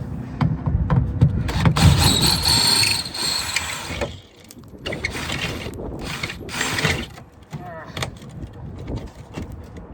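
A ratchet works a bolt loose on a Carolina Skiff JV17 boat, giving loud, close, rapid clicking bursts with clanking metal handling, separated by brief pauses.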